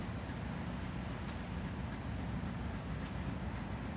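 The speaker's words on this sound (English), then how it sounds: "two trains in it in motion, both heading south, one backing south, one head ends headed going south, but kind of cool, both BNSF trains" Two BNSF trains move south near a depot in Saginaw, Texas, a faint, steady distant rumble with a couple of brief high squeaks and no voices.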